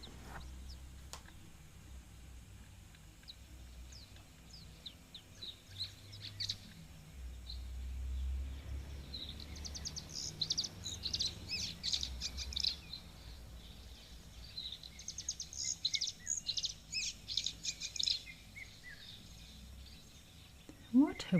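Birds chirp and call around a wildlife waterhole, with bursts of faint, distant twittering over a low outdoor rumble and some quiet, indistinct voices.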